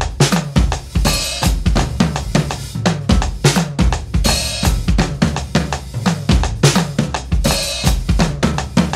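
A nine-beat drum riff, played three times, runs as a steady stream of loud, close kit strokes with heavy kick and toms and periodic cymbal crashes marking each cycle, unaccompanied by speech.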